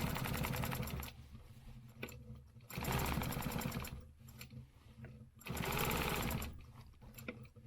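A sewing machine stitching a square, running in loud, steady whirring bursts with brief pauses between runs as the fabric is turned at the corners, heard close up with no talk.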